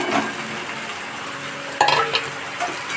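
Spices sizzle in hot oil in a pan while being stirred for a pangas fish curry, with steady frying crackle, scraping stirs and a few sharper clinks of the utensil against the pan.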